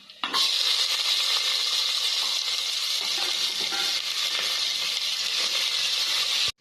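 Large onions and small shallots frying in a pan for brinjal mango sambar, a bright, dense sizzle that bursts in suddenly and stays loud and steady for several seconds before cutting off.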